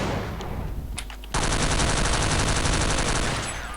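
Automatic rifle fire blasts in the video game Counter-Strike 1.6. After a few isolated shots, a sustained, loud, rapid stream of gunfire hammers on steadily to the end.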